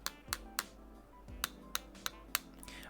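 Game controller buttons are pressed in a quiet ASMR setting, about eight sharp, isolated clicks spaced irregularly, close and crisp against near silence.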